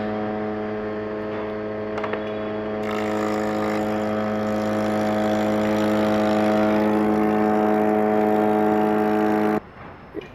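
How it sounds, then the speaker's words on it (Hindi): A heavy-duty multipurpose woodworking randa machine runs with a steady motor hum while a corner bit cuts into wood, the drone thickening and growing louder midway before cutting off abruptly near the end. "आप देखो ये अभी हमने कॉर्नर बिट का मारा है।"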